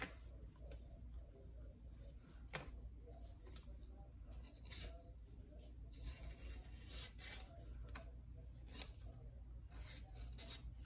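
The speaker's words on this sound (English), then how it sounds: "I think it's getting time to sharpen this blade." A pocket knife blade being sharpened, with quiet repeated rasping strokes and scraping rubs at an irregular rhythm, faint and close, without speech.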